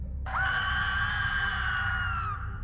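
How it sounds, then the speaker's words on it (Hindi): A high, sustained scream rings out in a horror story, starting abruptly and holding one piercing, steady pitch for about two seconds before cutting off, loud over a low background rumble. "तभी एक चीख को सुनकर हम सब एकदम से उठकर बैठ गए।"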